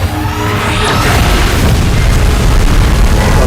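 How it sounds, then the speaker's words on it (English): A beam blast explodes in PUBG, a loud, deep sustained rumbling boom that fills the scene from start to end. "Wait, is it gonna fire a beam at us?"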